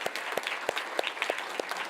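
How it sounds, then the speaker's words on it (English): An audience at a lupus advocacy summit claps, a sparse, fairly quiet patter of individual hand claps in an irregular rhythm, without voices. "let's give yourselves a round of applause also"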